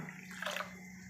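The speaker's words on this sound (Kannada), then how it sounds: "ಈಗ ನಾನು ಮೇಕೆ ಬ್ಲಡ್ಗೆ ನೀರು ಸೇರಿಸ್ಕೊಳ್ತಾ ಇದ್ದೀನಿ ಚೆನ್ನಾಗಿ ಕಿವುಚ್ಕೊಳ್ತೀನಿ" Water sloshes and drips as goat blood is washed and squeezed by hand, a short splashing burst that swells in the middle, close and alone with no talk.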